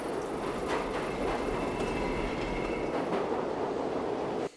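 Train carriage rumbling steadily in a scene from the 1990 film Jacob's Ladder, a continuous loud clatter with faint wheel squeal and a high whine, holding evenly before cutting off abruptly at the end.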